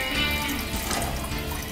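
Water pouring or running into a pan on the stove, making sugar syrup for bread bonda, heard as a steady close splashing rush with no talking.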